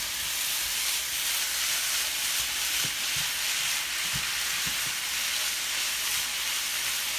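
Thin-sliced Philly cheesesteak meat fries in a pan, a steady hissing sizzle close by, with a few soft knocks as it is tossed around; no voices.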